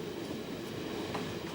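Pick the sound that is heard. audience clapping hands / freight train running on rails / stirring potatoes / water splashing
freight train running on rails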